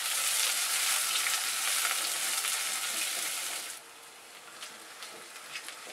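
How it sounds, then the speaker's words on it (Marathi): Medium-chopped onion frying in oil in a pan gives a loud, dense hiss at first, then drops to a softer sizzle with a few light pops and crackles, close up and with nobody talking. "हा एक मोठा कांदा बारीक चिरलेला आहे, मिडियम चिरला आहे, म्हणजे जास्त पण बारीक चिरला नाही। हे पहिला तर एवढं भाजून घ्यायचं चांगलं।"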